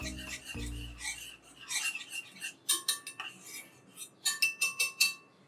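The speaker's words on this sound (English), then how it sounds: "Whisk it till it's fairly combined." A whisk scrapes and clicks against a bowl as a sauce seasoned with nutmeg is combined, giving close, uneven rasping strokes that quicken into a run of sharp rhythmic taps toward the end.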